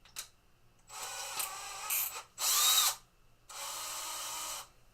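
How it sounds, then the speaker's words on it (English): Electric drill spinning a plunger in its chuck to buff with motorcycle metal polish in a workshop, three separate whirring bursts of about a second each with short pauses between, close and fairly loud. "Chuck it in the drill."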